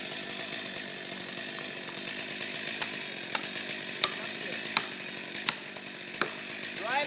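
Chainsaw making a plunge cut into a standing tree, a steady loud engine drone with sharp clicks and knocks breaking through at intervals, running continuously.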